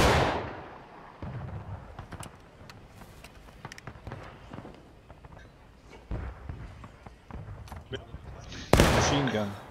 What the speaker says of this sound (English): Why is all the guns firing twice?